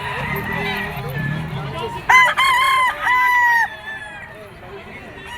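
A yellow-legged Sweater gamecock crows once, loud and close, its call rising then holding for over a second before fading, while faint voices and yard noise continue around it.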